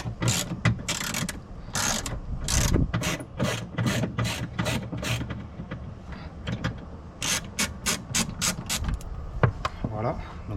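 Torx 20 key unscrewing a screw on an Audi Q2, a series of close, sharp ratcheting clicks and metallic scrapes in quick bursts, with a pause in the middle.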